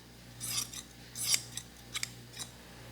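Scissors cut through fiberglass cloth in a series of quiet, crisp snips, with a few longer slicing strokes followed by short clips. The cutting is close and clear against a faint background hum.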